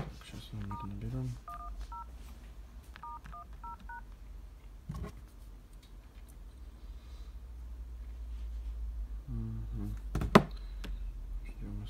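Keypad tones ring out as a phone number is dialed on a mobile phone, short beeps coming in quick clusters, then a pause with faint handling sounds before a final burst of tones and a click.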